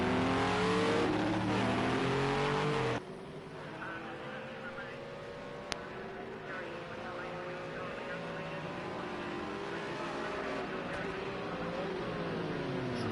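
A GT3 race car pulls out of pit lane in Project Cars 2 at Zolder, its engine roaring and shifting pitch through revs, loud at first and then steadier under other car noise.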